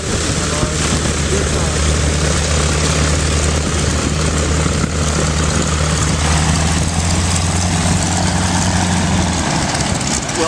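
A propeller airplane passes at Oshkosh, its loud, steady engine drone holding close and even for about nine seconds before easing off at the end.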